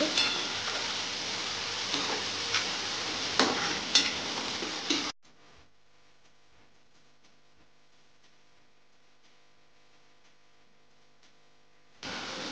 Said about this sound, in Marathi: टोमॅटो कांद्यामध्ये चांगला फ्राय करून घ्यायचा तेल सुटेपर्यंत।